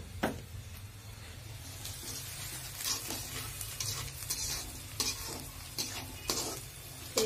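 Beef liver fries in a pan with garlic paste, salt and spices, giving a steady sizzle broken by repeated scraping clinks of a spatula stirring the food up close.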